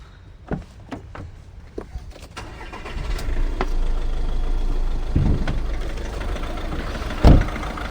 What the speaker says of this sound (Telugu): ఒకసారి ఇంజన్ ఆన్ చేస్తా, ఒకసారి సౌండ్ వినండి